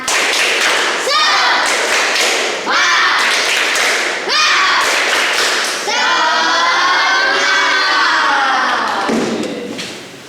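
A classroom of students performs a rhythmic spirit clap chant, with loud, patterned group claps alternating with shouted chanting voices, then a longer stretch of excited cheering near the end.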